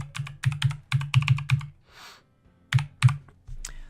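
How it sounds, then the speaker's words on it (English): Rapid clicking of computer keys in short bursts, close and crisp, with a brief pause midway before a few more keystrokes. "I'm typing in my address there"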